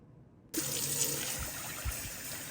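Water from a tap suddenly starts and runs steadily into a sink, with a few soft knocks of rice and fenugreek seeds being rinsed beneath the flow.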